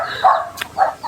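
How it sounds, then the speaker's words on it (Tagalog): A few chickens at a family house cluck briefly and close by, two short calls in quick succession. "Marami siyang manok."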